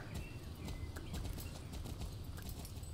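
Horse hooves clip-clop steadily in the Star Stable video game, a continuous rhythmic trot of soft, muffled steps heard alone without talk.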